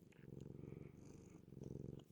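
A cat purrs close up in a steady, rumbling rhythm of soft pulses, continuous and alone, with no voices.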